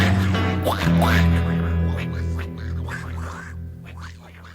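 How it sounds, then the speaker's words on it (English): Ducks quack in a repeated, rhythmic pattern over a steady low musical drone, several quacks clearly audible and loud in a song-like arrangement. "Ducks, ducks, quack, quack, quack, quack."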